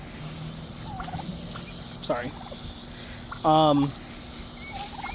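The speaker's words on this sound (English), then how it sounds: "I do have turkeys that I'm not keeping." Turkeys gobble on a small homestead, with two or three loud, rattling bursts near the microphone standing out over a low background hum, and a single short spoken word.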